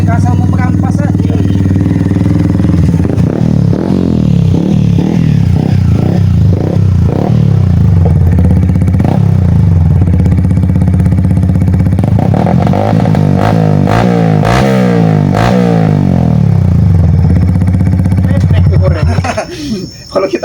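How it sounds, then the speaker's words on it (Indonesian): A large motorcycle engine revs and roars loudly, rising and falling in pitch, with clattering and people talking over it. "bawa motor besar, motornya bagus sekali"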